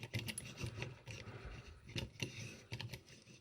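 Small metal and plastic parts of a G600 phone repair microscope click and grind softly as the top section is wound into its threaded base, a quiet, uneven series of close ratcheting scrapes.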